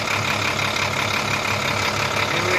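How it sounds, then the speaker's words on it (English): New Sinotruk HOWO NX tractor head with a 371 hp Euro 2 diesel engine running steadily, a constant dense rumble at close range with no talk over it. "New engine, listen to the sound."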